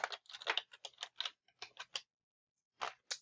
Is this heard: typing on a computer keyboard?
yes